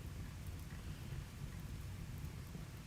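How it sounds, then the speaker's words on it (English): Soft, steady rainfall in the video game Rimworld, a faint, even hiss of rain with no voices. "There's the rain, so that'll stop that maybe."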